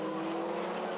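Rallycross cars race wheel to wheel on a Swedish track, engines roaring steadily and close with a sustained high whine, with a hint of tyre scrub in the mix.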